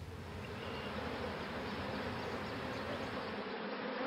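Bees buzz steadily in a dense, continuous hum, loud and close throughout with no talk.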